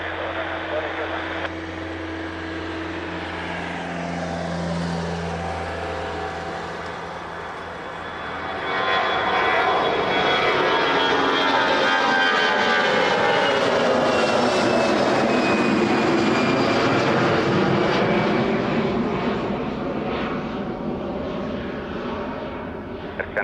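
An airliner on approach to Lisbon Airport runway 20 builds from a low steady hum into a loud, broad roar that sweeps past and eases off, with radio voices heard early on.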